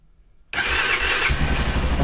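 An engine fitted with a new battery cranks and catches at once after a quiet moment, leaping into a loud, steady running roar close by.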